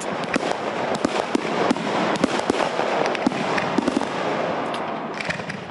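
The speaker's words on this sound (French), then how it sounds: "merci à la commune de Beaulieu-sur-Loire d'avoir tiré ce premier feu d'artifice" A town fireworks display at Beaulieu-sur-Loire on a festival day: a dense, continuous barrage of crackling bursts and sharp pops, loud and layered over several seconds.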